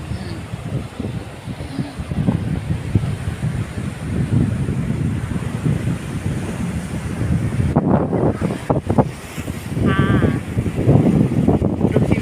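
Strong seaside wind on an Italian beach buffets the microphone continuously, a loud rumbling roar with gusts, while a voice speaks faintly underneath.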